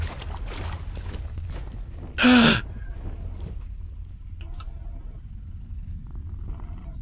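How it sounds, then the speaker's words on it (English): A cat being petted in the video game Mortal Shell gives a short, loud purr-like burst of about half a second in the middle, over steady game ambience and faint background sounds. "You can pet the cat."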